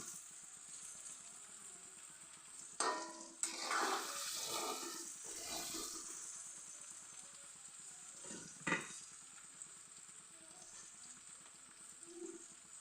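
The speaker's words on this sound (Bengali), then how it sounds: "আমি আলুগুলো ভেজে নিচ্ছি" Potatoes fry in oil for chicken biryani, a steady hiss and sizzle with a few louder bursts of stirring and spattering partway through.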